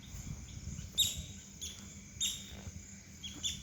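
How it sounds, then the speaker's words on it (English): Birds whistling and chirping on a riverbank of the Chobe River in Africa, with short high calls repeating every second or so over a soft low background hum, faint and somewhat distant. "There are birds, sounds of birds"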